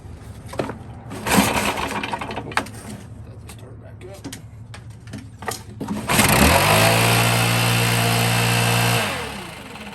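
A Stihl-style BR 700 backpack blower engine starts after some clattering handling noises and runs loudly and steadily for several seconds, then winds down abruptly as it shuts off.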